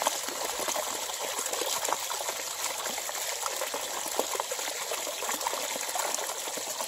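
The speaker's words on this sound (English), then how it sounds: "We're just gonna let some air bubbles out of it right now." Water gushes steadily from a creek-powered ram pump as trapped air bubbles are let out, a close, continuous rushing hiss with small sputtering bursts throughout.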